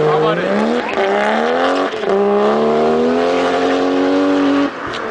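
A drift car's engine revs hard and close, its pitch climbing and holding in sustained high wails between brief shift dips, with tire noise and occasional voices under the loud roar at a drift event in Ibaraki.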